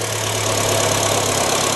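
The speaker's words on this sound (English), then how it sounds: "So I've started the engine" A car engine idles steadily just after starting, with a low, even hum and a constant rumble running unbroken and close throughout, no voices over it.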